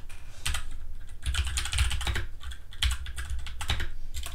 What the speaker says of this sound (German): dass man meine Tastatur nicht durchhört